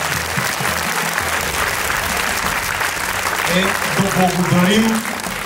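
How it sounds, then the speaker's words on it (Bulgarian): Loud applause breaks out from a crowd at a school open day patriotic event, with dense sustained clapping; voices sing or call out over it toward the end. "Силни аплодисменти."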